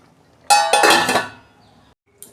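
A metal lid set onto a cooking pot on a gas stove while a ridge gourd, potato and poppy seed dish simmers, giving a sharp clanging clatter with a couple of quick rattles that ring out and fade, then a faint clink.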